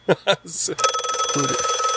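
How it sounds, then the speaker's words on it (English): Telephone ringing in a house, a bright repeated electronic ring sounding steadily and fairly loud after a few brief bursts of speech at the start. "Are you expecting a phone call?"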